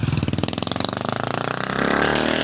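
A loud modified motorcycle with an aftermarket-noisy exhaust idles close by in a rapid, rough pulsing throb, then revs up into a smoother, sustained roar near the end.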